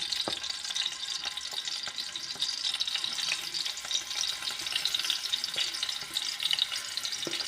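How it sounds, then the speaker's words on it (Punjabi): Paneer fries in desi ghee in a kadhai, giving a steady, dense sizzle that runs unbroken throughout, close and even, with a few faint clicks of stirring. "ਆਪਾਂ ਜੀ ਪਨੀਰ ਨੂੰ ਘਿਓ ਦੇ ਵਿੱਚ ਫਰਾਈ ਕਰ ਰਹੇ ਹਾਂ"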